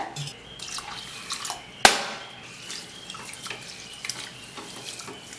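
Raw rice for pongal is washed in water at close range, with trickling and dripping, a sharp clatter near the start, then soft sloshing and scattered drips.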